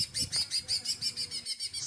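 Rapid, repeated bird chirps from a green leafbird, a high twittering call pulsing steadily and sounding close, with no talking.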